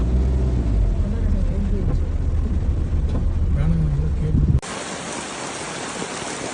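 Heavy overnight rain pours steadily over farmland, a dense, continuous wash of noise with a faint low rumble beneath, cutting sharply to a thinner, hissier downpour near the end.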